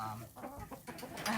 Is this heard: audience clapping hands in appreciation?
no